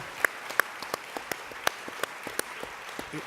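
Sparse, scattered claps from a lecture audience honoring a young man who just spoke, fading after a few seconds of light, intermittent hand claps.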